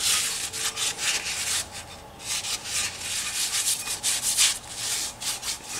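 Crisco shortening being rubbed onto a cast iron skillet, a steady scratchy swishing of repeated strokes back and forth, close and fairly loud, with no talking.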